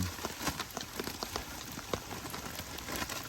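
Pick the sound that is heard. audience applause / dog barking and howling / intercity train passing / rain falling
rain falling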